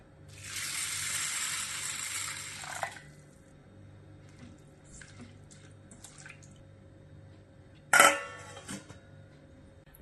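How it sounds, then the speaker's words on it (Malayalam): Water poured into a bowl of broken wheat to soak it for payasam, a loud steady splashing pour for about two seconds, then quiet and a brief clatter near the end. "ഇതിലേക്ക് നല്ലോണം മുങ്ങിക്കിടക്കുന്ന പാകത്തിന് വെള്ളം ഒഴിച്ച് 3-4 മണിക്കൂർ കുതിർത്ത് വെക്കാം"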